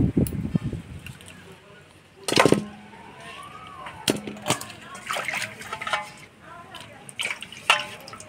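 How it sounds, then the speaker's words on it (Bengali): Cut pieces of pona fish are washed by hand in water, with sharp splashing bursts and sloshing, dripping and handling noises coming in irregular clusters at close range. "মাছগুলো কাটে নিলাম, এবার পরিষ্কার করে ধুয়ে নিব।"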